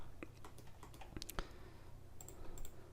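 Computer keyboard keys pressed while modeling in 3ds Max, a run of quick close clicks and taps, including a Ctrl and Backspace combination, moderately loud over a faint background hum.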